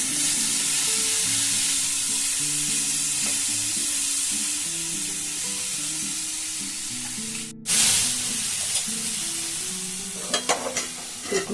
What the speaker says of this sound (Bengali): এবার এগুলোকে আমি একটু ভেজে নেব।